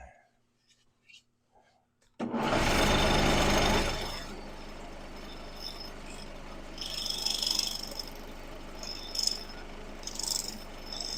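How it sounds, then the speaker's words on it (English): An electric grinder in a woodturning shop switches on abruptly after near silence, first loud and harsh, then settling into a steady, quieter hum with faint high chirps over it. "I probably should leave the grinder running for this part."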